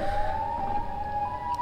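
A siren from the Siren Head character in an animated cartoon wails as a steady, loud, continuous tone that slowly rises in pitch, with no talk.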